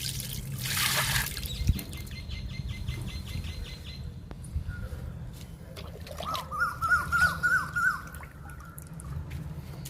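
Kitchen waste liquid is poured onto a fig plant in a garden, giving a short gushing splash at first and then soft trickling, with birds chirping faintly nearby.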